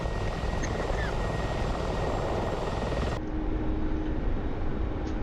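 Mi-24P attack helicopter in the DCS flight simulator, a steady loud rotor and turbine drone filling the cockpit throughout, with a sudden drop in the high hiss partway through.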